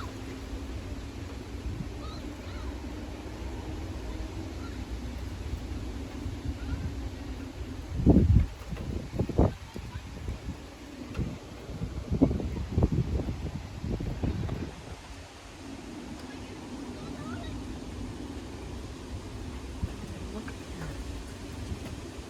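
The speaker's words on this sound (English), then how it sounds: "The winds are blowing now" Strong wind gusts during a storm buffet the microphone outdoors, a steady rushing roar broken by several loud, rumbling blasts in the middle before settling back to a lower blow.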